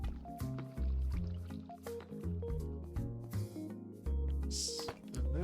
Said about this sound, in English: Water is annoying in this game.